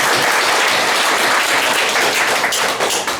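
Loud, close applause from a church congregation during a Sunday worship service, a thick continuous burst of clapping filling the whole moment without any voices.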